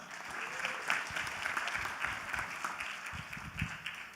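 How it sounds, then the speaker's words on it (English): A conference-room audience applauds steadily to welcome a two-person pitch team at a Taiwan–US investment event, dense continuous clapping throughout at a fairly quiet, slightly distant level. "Let's give them a warm round of applause."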